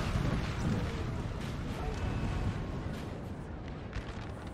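Artillery fire from a Napoleonic-era battle in the video game Napoleonic Total War 3, a dense continuous rumble of booming cannon blasts that blend into a steady roar throughout, with possible faint voices underneath.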